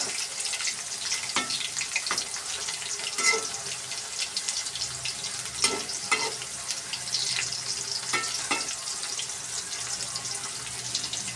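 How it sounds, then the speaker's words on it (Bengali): Chopped onion frying in oil, a soft continuous sizzle broken by scattered clinks and scrapes of stirring, with a faint running-water-like wash underneath and no talking. "পেঁয়াজ কুচিটাকে আমি লাল করে ভেজে নেব।"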